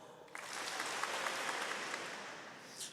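A large graduation audience in a hall breaks into brief, even applause, a thick continuous patter of many hands lasting under three seconds and ending with a faint voice.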